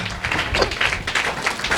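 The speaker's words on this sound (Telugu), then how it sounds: "Give the big claps to the lord Jesus." Church congregation clapping for Jesus during a Sunday sermon, a dense, steady patter of many hands applauding together, moderately loud and without a break.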